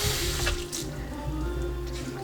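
A kitchen tap runs steadily to wet a towel during Persian cooking, a close, continuous rush of running water with small splashing changes for about two seconds.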